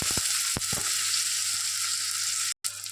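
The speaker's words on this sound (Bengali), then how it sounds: "দেখুন পেঁয়াজটা আমার ভাজা হয়ে এসছে।" Onion frying in oil in a wok, a steady loud sizzle with a few sharp clicks of stirring, briefly cut off near the end.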